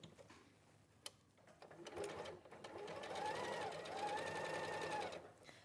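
A sewing machine chain piecing fabric patches runs steadily for several seconds after a single sharp click, its mechanical whir rising and settling under faint background talk.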